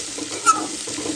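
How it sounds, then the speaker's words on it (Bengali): Onions and whole green chilies with salt and a pinch of turmeric fry lightly in a home kitchen pan, giving a steady, soft sizzle with a brief stirring scrape in the middle. "হালকা হালকা ভাজা ভাজা করবো।"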